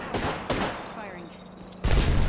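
Apex Legends gunfire: a few scattered shots, then a heavy, dense volley near the end, mixed with in-game voice and background chatter.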